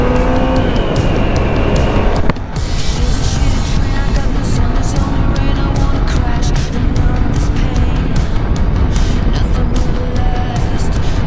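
A BMW K1200RS motorcycle engine roars steadily and loudly as it passes along the road, close and continuous, with a brief dip near the start before the strong drone carries on to the end.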